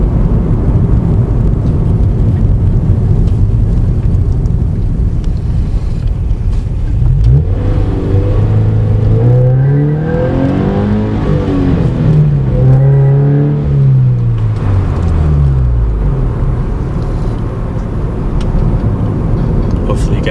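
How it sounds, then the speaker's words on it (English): A car engine with a Nameless Performance axle-back exhaust drones steadily under road noise, then revs up and down in a low growling swell before settling back to a cruise. "Got that nice sporty growl to it"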